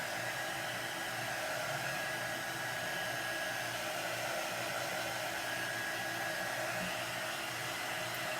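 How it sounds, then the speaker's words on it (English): A heat tool dries paint on a handmade craft gift for a teacher with a steady, close, unbroken blowing whir that lasts throughout with no talk. "going to use my heat tool to dry this so I can put another coat on"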